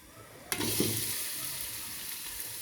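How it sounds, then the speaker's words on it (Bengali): Chopped onions dropped into about a cup and a half of hot oil for a beef curry, a sudden loud hiss that settles into a steady, bright sizzle. "তেলটা এখন গরম হয়ে গেছে এখন আমি এখানে আগে থেকে পেঁয়াজ কাটা"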